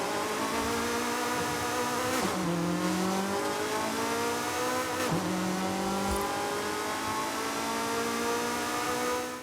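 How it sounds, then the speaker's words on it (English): Simulated 2-litre engine of a Mazda MX-5 RF in Forza Horizon 5, revving steadily with two sharp upward sweeps a couple of seconds apart, loud and close with no talk. "now let's go ahead and take a listen to that 2-litre engine"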